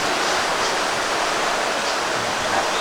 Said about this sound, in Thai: ก็ทานกับบรรยากาศติดริมน้ำตกแม่อ่อน ชียงใหม่นะคะ